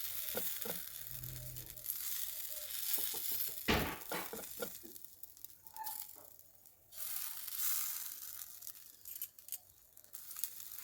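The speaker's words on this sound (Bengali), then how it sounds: "একটু অল্প করে তেল দিয়ে দিলাম একটা খানিক্ষণ একটা পিঠ হতে ছেড়ে দেবেন" A bread slice coated in a soaked chana dal, oats and semolina batter fries in a little oil, giving a steady close hiss and sizzle with a few brief crackles and shuffles, no voices.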